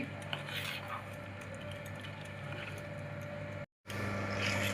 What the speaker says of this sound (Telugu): ఈ బెల్లం కరిగేలాగా బాగా కలుపుకోవాలి